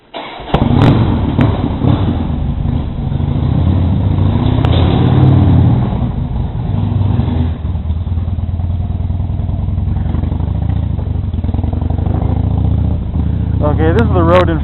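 A Harley motorcycle out on the road gives a steady low engine rumble with wind noise for the whole stretch, and a rider's voice talks over it at times.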